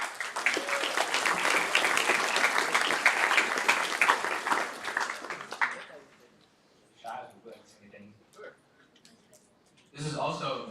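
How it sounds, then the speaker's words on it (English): Applause from a hackathon closing-ceremony crowd honoring event sponsors, a dense loud round of clapping that lasts about six seconds and then fades, followed by a voice speaking and a short burst of noise at the end. "huge round of applause for them"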